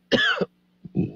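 Someone coughs hoarsely a couple of times, with a quiet hum underneath and a short throaty sound at the end.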